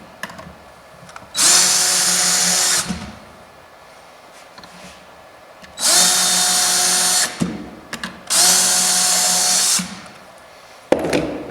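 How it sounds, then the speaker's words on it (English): A power drill whirs loudly in three bursts of a second or two each while drilling a hole for a nightstand door, separated by quiet pauses and small clicks. "And drill my hole."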